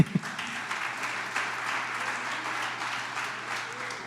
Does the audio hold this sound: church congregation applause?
yes